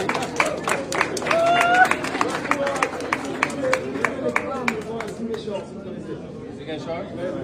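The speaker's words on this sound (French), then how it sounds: "Et vous applaudirez ça" Audience applause rises in a wash of scattered claps and crowd noise, loudest early on, then thins into lighter clapping, with people talking over it throughout.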